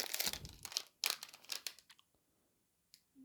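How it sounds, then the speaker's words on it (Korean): A coin, a 1969 Korean 10-won piece, drawn out of a crinkling plastic vinyl sleeve: several bursts of close, bright rustling and crackling, then quiet with a faint tap near the end. "직접 비닐에서 꺼내서 한번 보여드리면"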